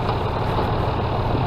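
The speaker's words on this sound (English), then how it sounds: "This is a 4-wheel drive tractor with an ag type tires" A John Deere 5202 four-wheel-drive tractor with loader and ag tires, 52 horsepower, idles close by with a steady, even diesel rumble, alone and without talk.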